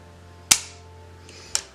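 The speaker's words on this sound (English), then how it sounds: "Single action trigger pull." Two sharp metallic clicks from the single-action trigger pull and hammer fall of a stainless Beretta 96 Brigadier Inox pistol, the first louder with a ringing decay, the second a second later, close and isolated.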